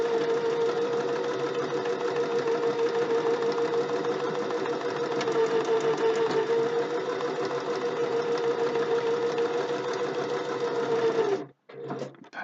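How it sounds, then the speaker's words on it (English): A sewing machine on its automatic buttonhole setting stitches a bow tie in a fast, even rhythm, running steadily and close before stopping briefly near the end. "I use an automatic buttonhole setting on my machine."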